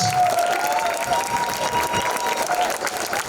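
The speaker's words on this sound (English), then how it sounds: "Another round of applause for Stephen Brown." Steady applause from a theatre audience at a community follies show for the accompanist, moderately loud clapping with a murmur of crowd and faint cheering.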